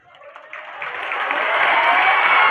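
Applause from a theatre audience after a play, starting thin and swelling into steady, loud clapping that holds to the end.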